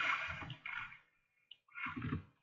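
A Minecraft player lands in water after flying, making a burst of splashing and sloshing water, a brief pause with a small blip, then a second splash.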